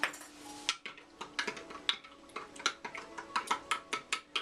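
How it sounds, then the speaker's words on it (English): A spoon stirs homemade detangler leave-in conditioner in a container, giving a steady series of light, quick clinks and scrapes, close and fairly quiet, with no voices. "Let me see if I have a longer spoon I can use to stir."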